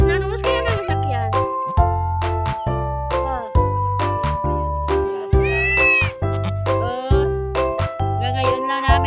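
A mother goat that has just given birth to four kids bleats again and again, loud and close, with a higher, wavering bleat from a kid joining in partway through.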